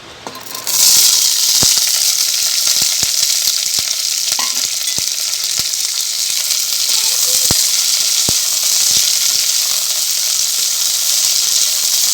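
Cluster beans (gavar) sautéing in hot oil, a loud continuous hiss and sizzle that bursts in at the start and holds steady, with occasional faint clicks of a utensil.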